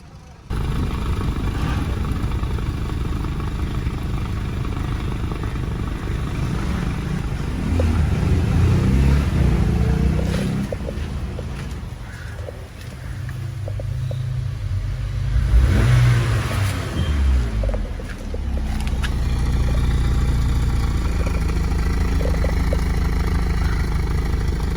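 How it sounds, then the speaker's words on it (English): A flood-damaged car's engine idles after repair, a steady low rumble that swells in a few revving surges and settles back, close and continuous throughout. "I just made the engine to run for 30 minutes in idle"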